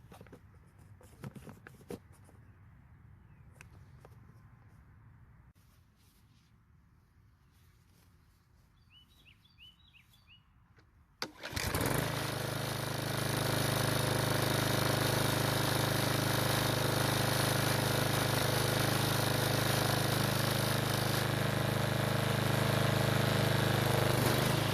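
A Craftsman walk-behind trimmer engine fires up after a quiet outdoor stretch with birdsong and a few handling knocks, then runs loud and steady close by for the rest of the time.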